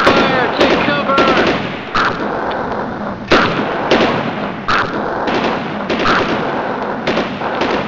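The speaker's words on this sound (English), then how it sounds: "Mortar fire, take cover!" Rapid bursts of gunfire and sharp explosive blasts, as from mortar rounds, crackle continuously across a chaotic battle scene, with loud impacts landing every second or so under faint shouting voices.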